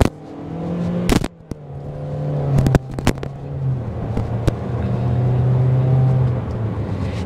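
A 2023 Toyota Corolla Cross XLE accelerating on a test drive, its engine note rising steadily and holding a smooth drone from inside the cabin, with a few sharp clicks and knocks over the hum.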